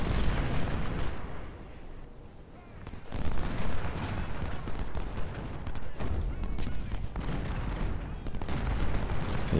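Musket volleys and booming cannon fire from a Civil War battle in Ultimate General, a dense, continuous roar of overlapping shots and low blasts with occasional sharper cracks.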